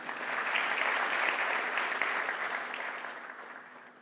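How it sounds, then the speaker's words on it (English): A seminar or classroom audience applauds a young man after he answers a maths question, a steady wash of clapping from a group that swells and then gradually fades. "So a round of applause for the young man."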